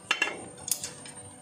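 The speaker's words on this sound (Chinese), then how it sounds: "搅拌一下，再加上一点点的香油" A utensil clinks and scrapes a few times against a pot while egg and coriander are stirred in, close but quiet, with short metallic taps and no voices.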